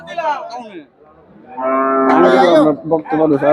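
Cattle moo loudly and close by at a livestock market, a short low call followed by a longer, drawn-out moo and a few more bellows.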